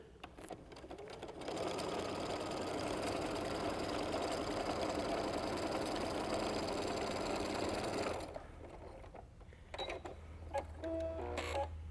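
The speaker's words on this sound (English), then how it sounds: "bring it right to your sewing machine and sew a 1/4 inch seam." A sewing machine runs a quarter-inch seam through quilt fabric pieces with a fast, steady whirring stitch for about six seconds. It then stops, leaving scattered clicks and small handling sounds.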